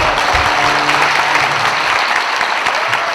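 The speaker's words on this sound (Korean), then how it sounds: "여러분 박수로 맞아주시기 바랍니다." Steady applause from a crowd at a welcoming ceremony for a city mayor's New Year visit to a district office, loud and sustained for the whole stretch with no speech.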